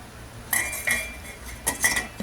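A metal spoon scraping and clinking against a pot while skimming foam off boiling tilapia fish soup, a few separate sharp clinks in two pairs over a quiet bubbling background.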